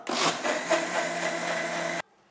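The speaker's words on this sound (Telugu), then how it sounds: "సో మళ్ళీ పాలు మిక్సీ కొట్టేస్తున్నా" Mixer grinder blending milk for beetroot juice, a loud steady whirring motor running close up for about two seconds before stopping abruptly.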